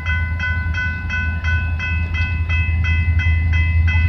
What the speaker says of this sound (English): We got a CP eastbound coming down the line.